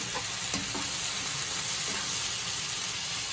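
Marinera sauce mixture sizzles steadily in a hot pan while being stirred, a continuous close hiss and bubbling with faint scraping touches, no talking over it.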